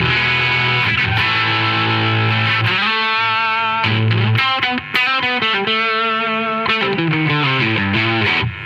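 An electric guitar played through an overdriven Midnight Lowatt amplifier gives distorted, sustained chords and bending riffs, loud and close, with no talking over it.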